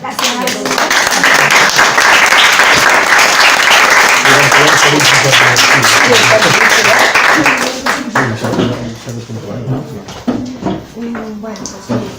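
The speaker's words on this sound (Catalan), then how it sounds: "Hem d'aplaudir." A classroom audience at a student project presentation gives loud, dense applause for about eight seconds before it thins out and fades. Voices mix in throughout.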